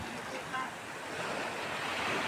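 Ocean waves rushing and breaking on a beach in Morong, Bataan, in a loud, continuous wash of surf, with wind noise buffeting the microphone.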